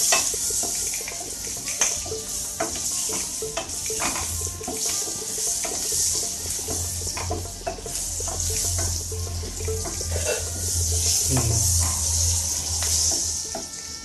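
Tomatoes stirred and frying in butter for mirch makhani make a steady close sizzle, with spoon-scraping strokes against the pan throughout and no talking.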